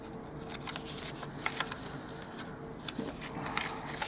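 Scissors snip through a tiny doll-size paper flour bag, trimming it toward the fold line, with close, crisp cuts and light paper rustling, no voices.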